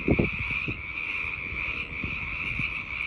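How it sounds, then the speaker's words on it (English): A loud, continuous shrill trill sounds from insects in a nature area, steady and close. Low croaking pulses repeat beneath it. "I came across some of the loudest crickets I've ever heard."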